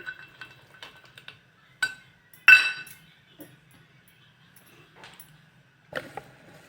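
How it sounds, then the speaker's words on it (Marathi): Cashews, almonds and raisins dropped into wheat kheer cooking in a pot give a few soft clinks and taps, sharpest near the middle, with a faint low simmer between. "आता हे ड्रायफ्रूट आहेत काजू बदाम आणि मनुका ह्या ह्याच्यात मी आता घालत आहे खिरीत"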